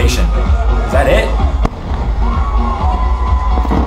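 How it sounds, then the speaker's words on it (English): The world's biggest firework bursts in a deep boom with crackling amid a noisy outdoor crowd that cheers and shouts throughout. "This is the world's biggest firework."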